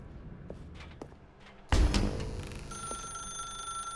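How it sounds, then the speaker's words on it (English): A telephone rings in a dark room in The Stanley Parable: Ultra Deluxe, a steady electronic bell tone that starts abruptly after a thud and keeps going, following a few soft footsteps. "Now pick up the phone"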